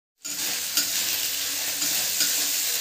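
Garlic and ginger paste frying and being stirred in a hot pan for a Bengali bhetki fish curry, a steady close sizzle with a few scraping spoon strokes throughout.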